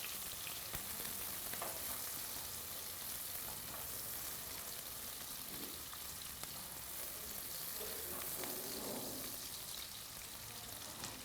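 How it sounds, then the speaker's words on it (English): Onions saute in a pan for fried liver with rice and vegetables, a continuous close sizzle and crackle with faint stirring, steady throughout and without talking. "Just saute them for a few minutes."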